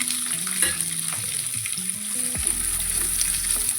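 Chopped medium onion sizzles and fries steadily in a pan, with occasional stirring scrapes over the constant crackle, close and alone.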